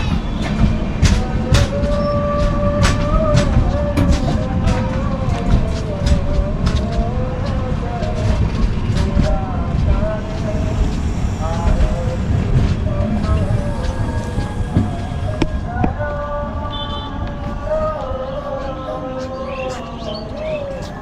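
A train pulling into a station in Gangarampur town rumbles loudly and continuously for about twenty seconds, with wheel clatter, squealing metallic tones and brake screeches close by, while distant voices and a bird are faintly audible.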